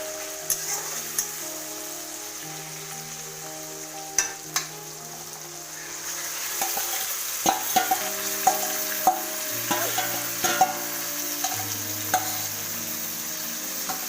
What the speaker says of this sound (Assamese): আৰু এতিয়া ইয়াত মই মাংসখিনি দি দিম